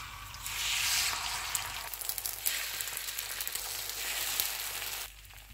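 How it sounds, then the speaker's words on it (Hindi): Beaten eggs hit hot oil on a griddle and sizzle loudly in bursts. The hiss swells and fades, with light crackles, then drops off abruptly near the end. "तवे पे थोड़ा सा ऑयल और डालेंगे। अब इसमें फेंटे हुए अंडे डाल देंगे।"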